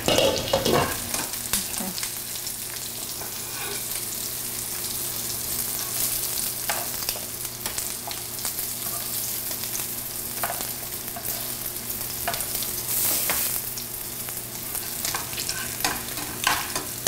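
Slices of vegetarian ham frying to a char in a pan, a steady loud sizzle with occasional crackles and stirring clatter, no talking.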